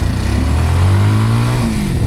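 A Kawasaki classic motorcycle engine, W230 or Meguro S1, revving while riding, a close, loud mid-pitched drone rising in pitch as it accelerates over two seconds.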